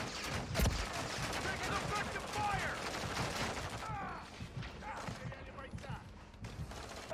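Mortar fire and a chaotic battle in the video game MWZ Zombies, with a sharp close blast early on, then rolling gunfire and mechanical clatter over a dense background, with a voice talking at times.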